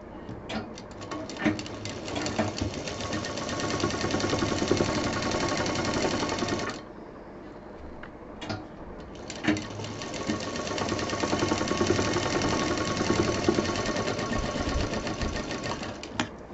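A sewing machine stitches patchwork fabric in two long close runs, a fast, even, rattling drone broken by a short pause in the middle before it starts again, with no speech.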